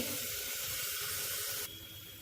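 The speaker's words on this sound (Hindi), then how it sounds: "इस प्याली से हमने 1 प्याली पानी डाला है" About one cup of water pours into a cooking pot of keema chana dal, a spiced minced meat and split chickpea dish, making a steady rushing hiss for under two seconds before it drops to a quieter wash.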